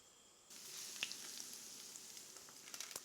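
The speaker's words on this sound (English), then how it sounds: "See this sizzle? Very important." Cheese-breaded chicken cutlets hit a shimmering pan of hot oil and burst into a steady, close sizzle, with a few pops and crackles on top and no talk.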